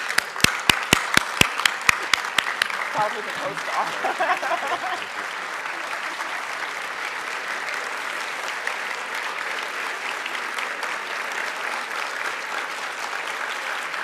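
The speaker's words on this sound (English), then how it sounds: "Let's please stand and give this gentleman a round of applause." At the 2013 National BDPA Awards Gala, a few sharp claps quickly swell into a broad, steady round of audience applause that carries on for several seconds, with a voice speaking briefly over it.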